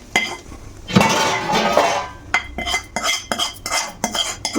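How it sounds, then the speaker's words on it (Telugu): Metal spoon scraping and clinking against a pot while paneer pieces are spooned onto pulao, a loud stretch of scraping followed by a series of sharp, rhythmic taps and clinks close by. "పలావ్ మీద ఇది పని చేసుకొని ఇప్పుడు వీటి మీద ఇవి వేసేసుకోవాలి పన్నీర్ పీసెస్"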